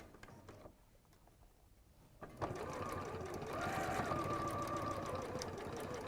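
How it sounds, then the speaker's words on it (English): A sewing machine runs stitching along a line of fabric, starting after a quiet pause and settling into a steady, even whirring hum that grows slightly louder and continues to the end. "And then sew along the rest of the line."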